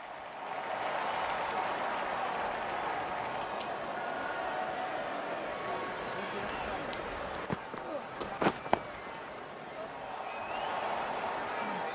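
Stadium crowd at a cricket World Cup qualifier, Afghanistan against Hong Kong, applauding a boundary with sustained clapping and murmur, a few sharp claps standing out, while a commentator talks.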